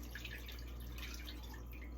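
Garlicky pickle brine from a jar pours into a cooking pan, a faint, continuous trickle with light dripping splashes and no voices.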